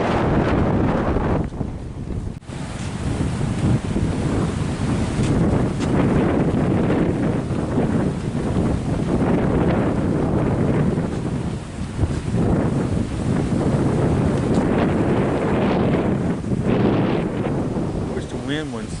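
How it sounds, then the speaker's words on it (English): Strong wind at the beach roars and buffets the microphone continuously, rising and falling in gusts throughout, with faint talking buried underneath. "I know the wind's really bad"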